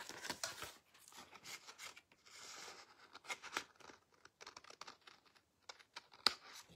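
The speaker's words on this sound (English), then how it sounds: "Let me snip that." Card being snipped with scissors during papercraft: a quick run of faint, crisp cuts and paper rustles, close but quiet, followed by scattered light handling sounds and one sharper snip near the end.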